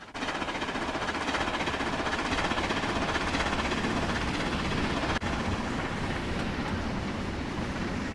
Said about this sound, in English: Here, one departs from the station, going tender first.